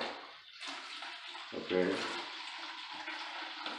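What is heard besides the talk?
pouring water slowly into concrete floor primer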